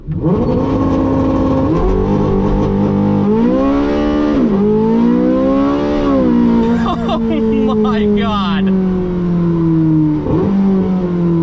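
Porsche 918 Spyder in hot lap mode launching from 0 to 60 mph, its engine roaring and climbing steadily in pitch through quick gear changes, loud and close throughout, with a person exclaiming briefly over it.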